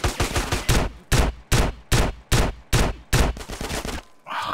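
Gunfire in GTA San Andreas, loud close bursts of shots in a rapid, fairly regular rhythm of heavy blasts with short gaps, ending abruptly.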